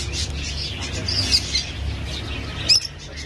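Caged yellow European birds chirp at an outdoor bird market in Diyala, short high tweets scattered over a low background hum, with a sharper squeak near the end.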